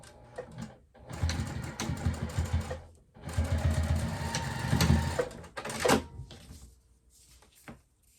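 A sewing machine stitching a double-sided purse strap, running in two long bursts of rapid mechanical chatter with short pauses between, then a few softer clicks and handling noises near the end.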